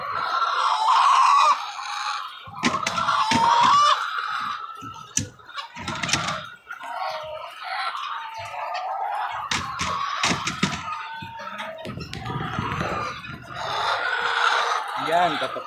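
Chickens in a poultry area cluck and squawk in scattered bursts, fairly close, mixed with a person talking nearby.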